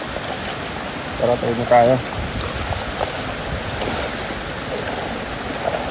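Floodwater rushes steadily past during a typhoon in Bicol, a continuous broad wash of flowing current close by, with people talking briefly over it.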